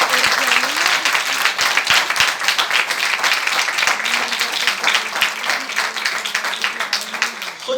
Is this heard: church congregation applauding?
yes